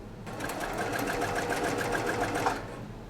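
Sewing machine running steadily as it stitches a row of quilt squares for a beginner quilting project, a fast even whirring hum that starts abruptly, holds close and loud for a few seconds, then cuts off.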